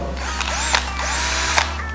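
A power drill whirs steadily at close range, with a few short bursts and a change in pitch near the end, in use while fitting an aftermarket car speaker.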